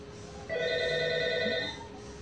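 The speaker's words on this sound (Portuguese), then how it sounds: "Olha o telefone. Não vou atender." A telephone rings in a home kitchen during cooking, one loud, steady electronic ring lasting over a second that then fades, with light background noise and no talking.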